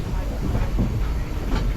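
A Vale of Rheidol Railway steam train runs along the line toward Capel Bangor station, a close, continuous rumble with rhythmic rail clatter and a faint hiss.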